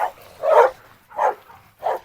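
A dog barks in three separate bursts, spaced about evenly apart and sounding close, while a larger dog at a farm goes after small dogs.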